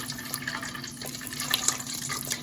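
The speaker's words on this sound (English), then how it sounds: "I'm just putting it through a metal colander" Hot rendered tallow or lard poured through a metal colander gives a steady, close liquid trickle and splash over a constant low hum, with faint drips and no talking.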